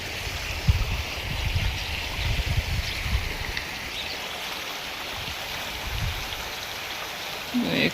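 Irrigation water running into a village farm field where brinjal and chili grow, a steady rushing and trickling flow close by with a few soft bumps, no talking over it.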